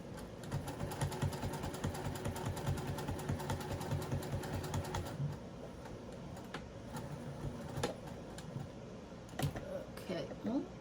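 A Juki sewing machine stitching a faux suede cross-body bag with a heavier needle, a rapid steady mechanical tapping that pauses and restarts, close and moderately loud.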